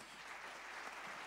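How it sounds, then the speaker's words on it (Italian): Audience applause at an evening event of words and music for International Women's Day, a steady dense clapping wash throughout, fairly faint and distant. "E quindi vorrei un grande applauso"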